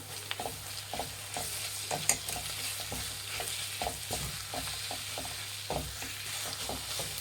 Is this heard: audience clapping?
no